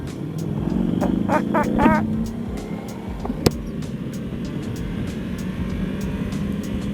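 A carbon-bodied V4 SP sport motorcycle with a dry clutch being ridden: the engine note climbs in a short rising rev, then settles into a steady, close drone with wind rush, with no talk.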